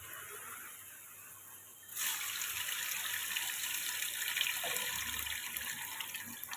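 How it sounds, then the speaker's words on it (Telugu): Tamarind water pours into a pan of village-style fish curry, a steady liquid splash starting abruptly after about two seconds and running on continuously at close range with no talk. "ఇప్పుడు మనం చింతపండు పులుసు పోసుకున్నామండి"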